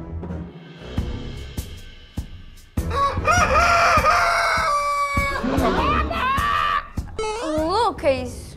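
People imitate chicken clucking and crowing with their voices, a series of loud, rising and falling squawks close to the listener, mixed with speech.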